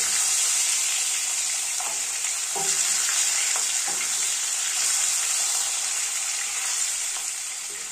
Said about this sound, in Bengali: মাছগুলো এপিট ওপিট করে খুব সুন্দরভাবে ভাজতে থাকবো।